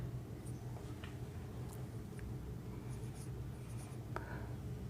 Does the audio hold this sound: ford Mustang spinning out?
no